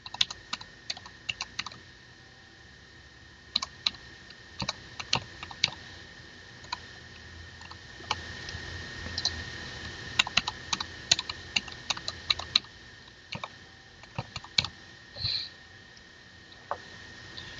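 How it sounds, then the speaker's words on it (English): Someone types a new password on a computer keyboard: irregular bursts of quiet, close key clicks with short pauses between them and no voices. "And now you can create your new password."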